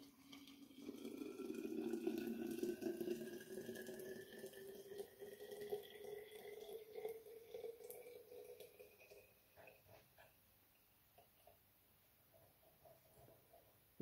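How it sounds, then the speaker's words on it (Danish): Hot water runs steadily from a kitchen tap for making cocoa, a close, continuous splashing stream with rising pitch as the vessel fills, stopping after about nine seconds and leaving near silence. "Så bruger vi med noget varmt vand."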